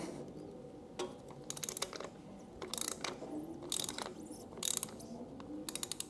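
Ratchet wrench fitted with an extension loosening the oil drain bolt on a 2023 Kawasaki Versys 650 LT, giving close, sharp clicking bursts of the pawl over a low background hum.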